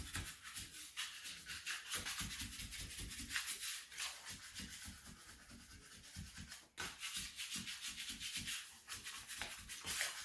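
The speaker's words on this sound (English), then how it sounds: "we're going to use the scraper" A dough scraper rubbing bread dough across a counter to build tension, a faint, close series of repeated soft scraping and rubbing strokes with brief pauses.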